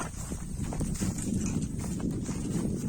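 A horse's hooves clip-clop in quick, steady rhythm on the ground, fairly close and continuous, with faint rustling behind.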